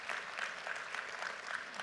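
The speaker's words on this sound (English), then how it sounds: "Please give them a big round of applause." Conference audience applauds a sponsor at a developer summit in Mumbai, a continuous patter of many hands, fairly faint and distant throughout.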